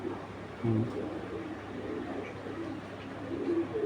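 A domestic pigeon coos close by, a few low soft throaty calls repeating under faint background noise in a pigeon loft.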